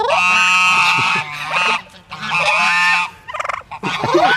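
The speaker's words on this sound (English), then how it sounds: "There's also a Peking duck in here." Peking duck at a zoo giving loud, harsh honking calls in several bursts, close and clear with no speech over them.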